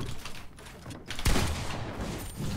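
Fortnite gunfire plays as a dense burst of gaming noise. A single heavy boom is followed by a rapid crackling volley, all moderately loud against a busy, noisy backdrop.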